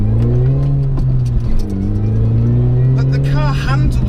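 An R53 Mini Cooper S engine drones and revs steadily from inside the car as it drives a narrow wet lane, with someone talking over the engine throughout.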